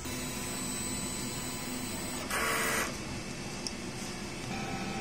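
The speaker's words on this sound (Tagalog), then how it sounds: "Ang ating printer head, ang pag-head clean, pindutin natin ng clean," DTF printer running a print head clean, a steady mechanical whir and hum with a short burst of louder hissing noise midway, close and alone.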